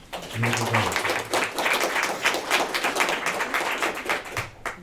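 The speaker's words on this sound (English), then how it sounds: "Quick round of applause" Quick burst of audience applause at a hip seminar's expert panel of pro athletes and doctors, dense clapping filling the room for a few seconds, with a brief low voice at the start and end.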